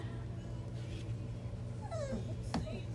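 Four-week-old Newfypoo puppies give a few thin whimpers and rising yips over a steady low background hum, with one sharper cry near the end.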